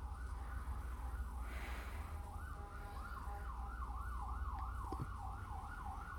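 An ambulance siren passes outside, its wailing rise-and-fall cycling steadily, muffled and moderately distant over a low rumble of traffic.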